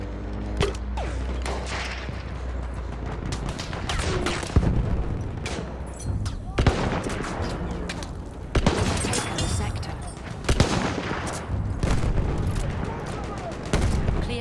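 Battlefield 1 combat gunfire: loud, close rifle and machine-gun shots with sharp repeated cracks and heavy booms spread through the fight, with someone talking in between.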